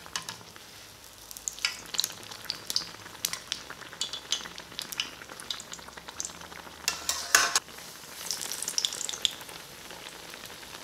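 Trinidad-style eggplant fritters, baiganee, fry in oil with a moderate bubbling sizzle and sharp spitting bursts as battered slices drop in, with occasional utensil clinks.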